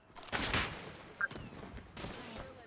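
Gunfire crackles during a video game deathmatch, several quick bursts of shots at moderate loudness, mixed with faint game sounds.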